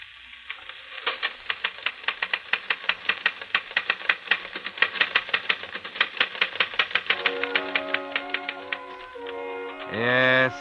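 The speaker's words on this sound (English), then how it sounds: "Yes, Charles, you're busy typing on a phonograph record." Rapid, even typewriter keystrokes clatter steadily for several seconds, ending with a carriage bell and return, typed along to a phonograph record.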